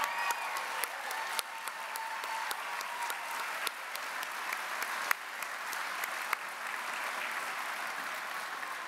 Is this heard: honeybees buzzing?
no